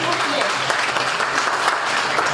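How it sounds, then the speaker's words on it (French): Audience applause at a free entrepreneurship and digital marketing training event: a dense, continuous patter of many hands clapping, steady and close throughout the short stretch. "Des applaudissements."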